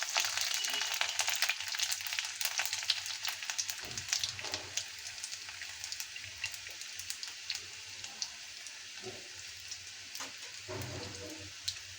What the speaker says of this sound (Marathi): ते तडतडून घेतल्यानंतर त्यात लसूण टाकणार आहे.